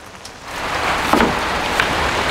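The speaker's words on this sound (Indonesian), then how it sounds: "habis siap nyuci kok malah hujan pula" Rain falling steadily on surfaces around a rented house, a dense continuous patter with occasional louder drips, fairly close and with no talking.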